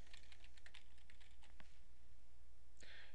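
Rapid keystrokes patter on a computer keyboard as a color name is entered in Python graphics code, a close, steady burst of clicks over a low hum before trailing off.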